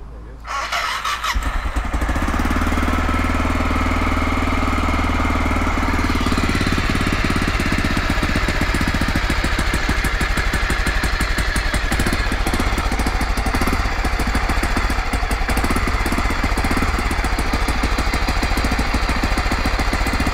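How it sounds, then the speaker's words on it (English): A light motorcycle being cold-started, the engine catching after a brief crank and settling into a loud, steady idle with a fast, even putter that runs close and continuous to the end. "Hladan start."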